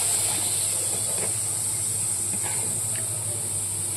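Water sprinkled onto a hot nonstick pan hisses in a steady, continuous sizzle throughout, close and fairly loud with no talking.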